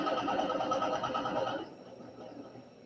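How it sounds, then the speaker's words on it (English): Sewing machine stitching quilt block pieces together for a summer sampler quilt, running steadily and fairly loud for about a second and a half before stopping, leaving quieter room noise. "So I'll be right back when we sew those together."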